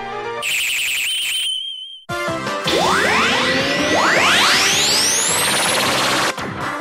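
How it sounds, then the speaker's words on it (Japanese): Bright electronic chimes ring out, then a burst of rising swooping synthesized tones repeats in loud waves, a pachinko machine's wing flash effect. "ウィングフラッシュ予告は効果音とともに強烈に発光"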